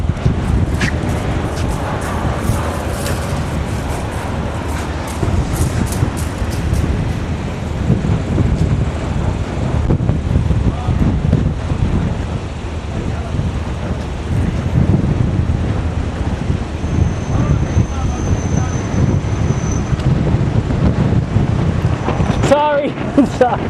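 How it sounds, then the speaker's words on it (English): Strong, steady wind from an approaching dust storm roars and buffets close to the microphone throughout, with low rumbling gusts and no talk. "What you're hearing is the wind. And this is a dust storm coming up real quick."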